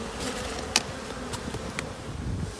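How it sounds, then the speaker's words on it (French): A honeybee swarm hums as a close, continuous buzz of many bees, with a few individual insects zipping loudly past, and no speech. "et un essaim"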